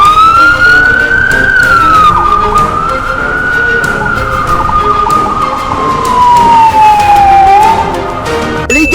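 An ambulance siren wails loud and near, one long sweeping tone that rises and falls slowly, with traffic rumble beneath and a sharp knock at the end.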